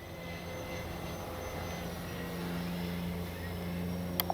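A Freewing 80mm A-10 V2 RC jet making a low pass in low light, a faint steady ducted-fan whine and rumble hanging in the distance, with a couple of small clicks near the end and no talk.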